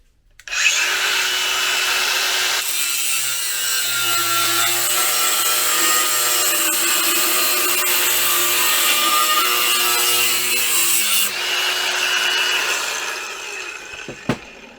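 A Harbor Freight Bauer brushless angle grinder cutting: a loud, sustained high motor whine that runs for about twelve seconds before winding down, with a sharp click just after.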